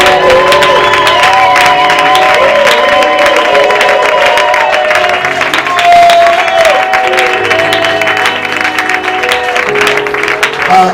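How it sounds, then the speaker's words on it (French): A church congregation applauds and cheers loudly and steadily, with dense clapping, whoops and raised voices filling the space throughout. "On acclame pour la parole."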